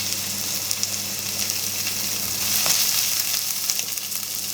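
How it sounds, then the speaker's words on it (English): Chopped onions hit hot rapeseed oil at the start of a lentil and butternut squash curry, giving a loud, steady sizzle and crackle that runs throughout with small pops rising and falling. "you want to hear that sound when you add your onions"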